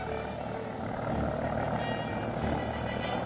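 A steady, droning police helicopter rotor hums continuously at moderate distance over a highway, with a low rumbling engine tone and no breaks.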